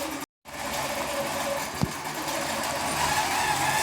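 A long arm quilting machine runs steadily, stitching a quilt on its own with a continuous mechanical hum and rapid needle rhythm, close and constant after a brief pause near the start.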